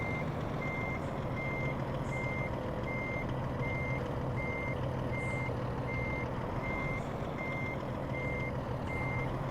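Steady, evenly spaced reversing beeps from a truck backing up a trailer in American Truck Simulator, sounding continuously over a low engine rumble with no talk.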